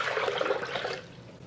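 Purified water pours into a container for plant-based milk in a close, steady gush that tapers off toward the end.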